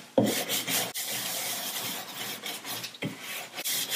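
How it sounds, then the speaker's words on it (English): A natural bristle brush scrubs excess putty off a leaded stained glass window in rough, raspy strokes, fairly close, with short pauses between strokes and no talk. "I'm taking my natural bristle brush, and I'm going to get the excess off"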